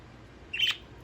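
A pet budgie gives a single short, bright chirp close by in a quiet indoor room.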